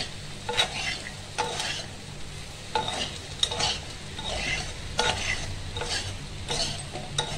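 Coconut fries in a pan with a steady, close sizzle, broken by repeated scraping strokes as it is stirred. No one speaks.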